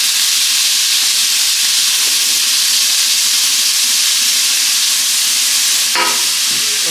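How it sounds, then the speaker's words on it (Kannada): Tomato and carrot frying in a pan while preparing oggarane avalakki, a steady close sizzling hiss throughout with a brief clatter of stirring near the end. "ಟೊಮೊಟೊ ಮತ್ತು ಕ್ಯಾರೆಟನ್ನು ಹಾಕ್ಕೊಳ್ತಾ ಇದ್ದೀನಿ. ಇವಾಗ ಇದನ್ನು ಫ್ರೈ ಮಾಡೋಣ."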